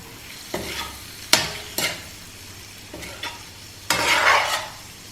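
Fish roe frying with ginger-garlic paste, turmeric, chilli powder and pepper in a pan, gently stirred, with several distinct spoon-scrape bursts over a low continuous sizzle, close and fairly loud.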